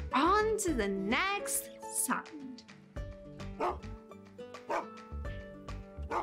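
A dog barks and yips in short bursts, some rising into whimpering cries, close and clear, with a voice talking briefly at the start.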